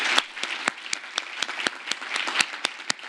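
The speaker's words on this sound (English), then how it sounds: "So let's give them all a big round of applause." An audience at the 2024 DC Fintech Week conference applauds with a sparse, uneven patter of separate hand claps lasting about three seconds.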